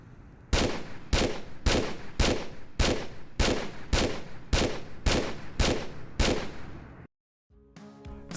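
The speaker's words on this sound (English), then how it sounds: "I'm also glad they brought the Revolver back for Tomb Raider 5." Revolver fire in Tomb Raider 5: eleven loud, evenly spaced shots about every half second, each with a short ringing tail, then a brief silence and a faint mechanical clatter.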